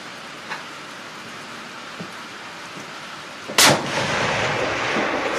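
A single sharp .308 rifle shot fired at long range, loud and sudden against quiet outdoor background, followed by a sustained rush of noise and a faint earlier report.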